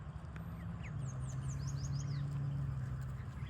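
Geese in a park give several short, rising honking calls in a quick cluster over a steady low rumble, heard from a moderate distance without talk.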